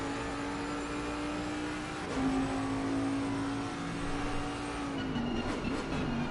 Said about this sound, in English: Ride on board with the Bentley into the next couple of corners here at Zolder, over the crest.